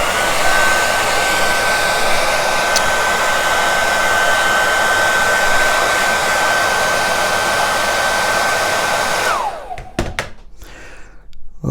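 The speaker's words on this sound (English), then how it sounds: "So what we'll do, we'll grab the hairdryer. Going to be a little bit of noise," A hairdryer blows in one continuous loud, steady whoosh with a constant whine while table tennis rubbers are fitted, then abruptly shuts off near the end, followed by a few knocks and thunks.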